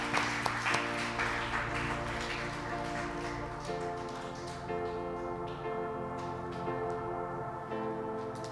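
A church congregation applauding, a broad spatter of clapping over sustained music tones, fairly close and continuous.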